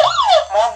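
Police car siren from a children's electronic toy book, a short wailing electronic tone sweeping up and down, loud and close, heard alone for under a second.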